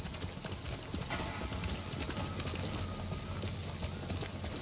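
Hoofbeats of a horse galloping in the samurai video game Ghost of Tsushima, a steady fast clip-clop rhythm held close and loud throughout, with game ambience filling the background.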